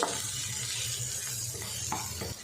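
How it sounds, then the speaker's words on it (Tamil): Coriander, tomato and a small piece of tamarind sauté in a pan for a chutney, giving a low steady sizzle with light stirring scrapes and a couple of soft clinks, close and without talk. "பச்சை வாசம் போகிற அளவுக்கு நல்லா வதக்கிட்டோம்"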